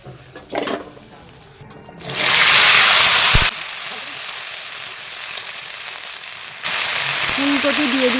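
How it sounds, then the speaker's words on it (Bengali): Cauliflower pieces go into used hot oil, setting off a loud burst of hissing that settles into a steady, close sizzle and swells again near the end, where a voice briefly talks. "এই তেলেই ফুলকপি আবার ভাজা হবে"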